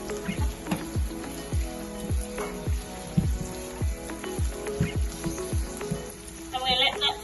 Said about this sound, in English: And we let that fry for another 1 minute.